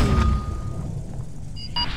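Deep muffled booms of an artillery barrage landing in a video game rumble in the distance, a low rolling impact with a faint tonal ping from game effects near the end.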